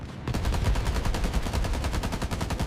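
Rapid, continuous machine gun fire from a B-17 bomber and German Bf 109 fighters in an air battle, a dense stream of evenly spaced shots at moderate loudness.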